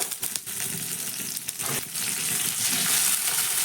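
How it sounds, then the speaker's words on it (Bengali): Curry leaves frying and being stirred in a pan with ginger and chillies, a loud continuous sizzle with scraping bursts from stirring early on, no speech. "কারি পাতা দেওয়ার পর একটু নাড়াচাড়া করে কারি পাতাটাকেও ভেজে নিলাম"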